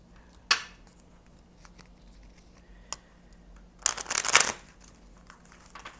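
Tarot cards being shuffled for a reading, heard as a quick riffling flutter at the start and then a longer, louder papery burst near the end, close by in a quiet room.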